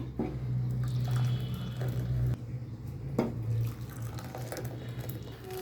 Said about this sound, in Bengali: দুধ ফুটানো কমপ্লিট এখন আমি এই যে কাপের মধ্যে ঢেলে দিই